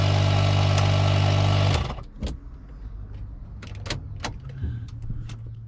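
A car tyre inflator motor drones loudly and steadily for about two seconds, then cuts off, followed by scattered clicks and handling noises nearby.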